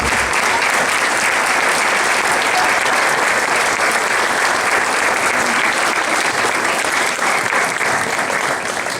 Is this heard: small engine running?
no